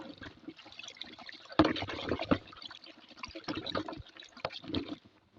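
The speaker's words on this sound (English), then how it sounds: "So when you add water, you try to stir and make sure the water is well mixed." Water is poured into a Dettol antiseptic liquid mixture and stirred, with soft, intermittent splashing, trickling and swirling sounds heard close by.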